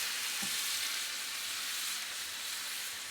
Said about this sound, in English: to make it extra sizzle, we just have a little bit of lemon juice